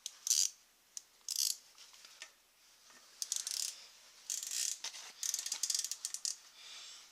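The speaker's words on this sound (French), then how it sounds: "Donc hop, là justement nous allons procéder à ce serrage." Screws being tightened on the rear brake pad of a 125 KDX motorcycle, with faint scattered metallic clicks and ratcheting taps in a quiet space.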